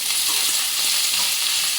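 Onion sautés in a hot pan, a loud steady hiss of sizzling oil with soft stirring scrapes running throughout, no voices.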